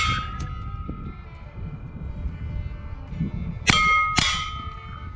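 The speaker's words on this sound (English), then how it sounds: "This is shooting super extra hollow points from Aguila" Aguila Super Extra hollow point rounds fired at an outdoor steel target, with a couple of fairly quiet shots and sharp metallic clangs ringing out against low background noise.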